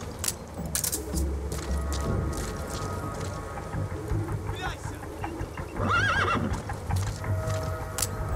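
A horse whinnies in Metal Gear Solid V: The Phantom Pain, a rising, wavering neigh near the six-second mark, following clip-clop hoofbeats and layered game sounds with brief speech.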